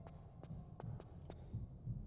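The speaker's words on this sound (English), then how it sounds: "the heartbeats are back" Heartbeat sound effect in the Tomb Raider: The Last Revelation video game, a series of soft, low thumping beats in a steady rhythm, repeating about five times over a faint background hum.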